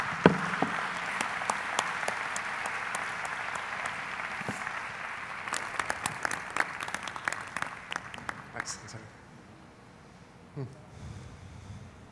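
An audience at a mathematics plenary lecture applauds in a steady, dense patter of claps. The clapping fades toward the end, and a voice follows briefly.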